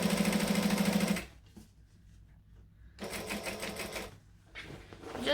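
A sewing machine stitches a fabric hobo bag in quick rapid-fire bursts, a loud steady whirring run that stops, then resumes after a pause and starts again at the close.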